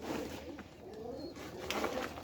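A pigeon giving soft, low cooing notes, faint and fairly close against light background noise, with no speech.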